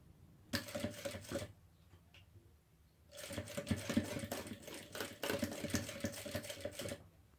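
A sewing machine closes a finishing seam on bias binding for a baby changing pad, running in a short burst, pausing, then running again in a longer, fairly quiet stretch of rapid stitching clatter.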